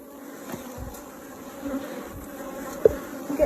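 Bees buzz inside a top bar hive, a soft continuous hum with a few louder individual passes drifting close by.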